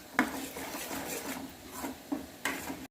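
Chutney with Kashmiri chilli being stirred in a pan, a few soft scraping knocks of a spoon against the metal at irregular intervals over a low background, with no voices.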